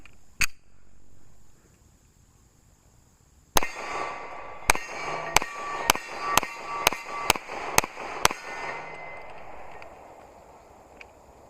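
A Baby Desert Eagle pistol fires a sharp opening shot, then after a pause eight more rapid gunshots crack out in a steady, evenly spaced string, each loud and close with a ringing tail.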